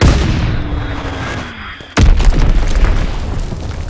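Azon bombs exploding in Call of Duty WW2 multiplayer, a sustained rumbling blast that fades, then a sudden sharp, loud boom followed by a roaring, crackling tail.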